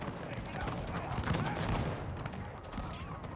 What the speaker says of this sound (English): the guns here, these 3-pounders, are blasting into the side of the HRE